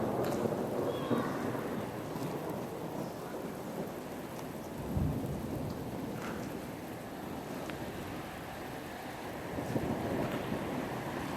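A thunderstorm in Norfolk near Hyde Park brings steady heavy rain hiss with wind, punctuated by a low thunder rumble midway and another swell near the end, no voices.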